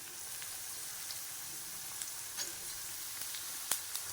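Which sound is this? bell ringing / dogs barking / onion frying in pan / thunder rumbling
onion frying in pan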